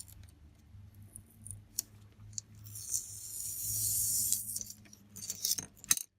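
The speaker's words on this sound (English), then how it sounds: "And now I'm going to remove my tape." Tape peeled slowly from a stenciled paper card: a quiet, close crackling strip with scattered small ticks that builds into a longer rasping pull, then a few final snaps.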